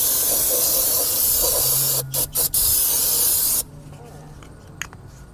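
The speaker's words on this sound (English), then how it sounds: "so now I'm gonna spray it" Aerosol spray hissing onto the rear brake assembly of a 2013 Kia Soul: a loud continuous hiss broken by three quick gaps, then cutting off to quiet shop ambience.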